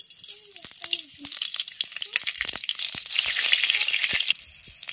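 A bay leaf, dried red chili and five-spice hit hot mustard oil in a kadai, crackling and sizzling sharply, the frying swelling into a louder continuous hiss, with a few spoken words at the start.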